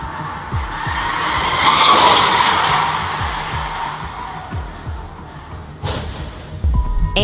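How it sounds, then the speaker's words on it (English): A car out of control crashes into a house, caught on a doorbell camera: loud tire skidding swells for seconds, then a sharp impact lands near the end, with some scraping after it. "Seconds later, this insane crash happened."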